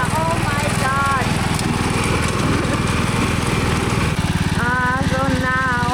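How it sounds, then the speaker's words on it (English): A worn, battered lawnmower engine runs loud and close, its motor droning steadily throughout while people talk over it. "Look at the sorry state of our lawnmower."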